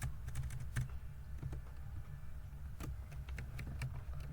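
Keys tapped on a computer keyboard while entering text into an Excel spreadsheet, a scattering of light irregular clicks in short bursts over a steady low hum, fairly quiet and close.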